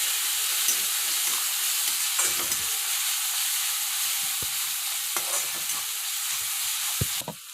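Chicken frying in a pan with salt, turmeric and chili stirred in, a constant close sizzle with occasional spatula knocks and scraping, no talk.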